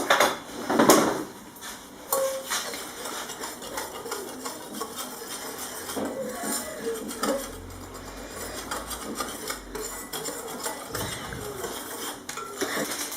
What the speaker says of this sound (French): Je vais mélanger le tout bien.